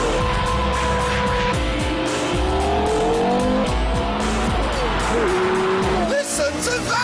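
A Porsche Carrera GT with its racing-derived 5.7-litre V10 drives hard, the engine howling through rising and falling gear changes with tyre squeal, loud and close, and a voice over it.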